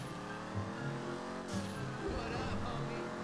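A turbocharged racing car engine in GTA 5 revs steadily with a whining, rising pitch, and a brief tire squeal, all sounding synthetic and game-like.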